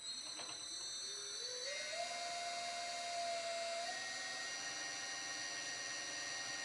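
Metal part turning on a machine at 1312 RPM with WD-40 applied, a steady loud machining whine with a rising pitch tone that settles and holds, continuous throughout with no talk.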